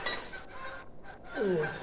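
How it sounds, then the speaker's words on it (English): A few honks from geese flying overhead, brief and somewhat distant, over faint outdoor background noise. "Just got geese flying by."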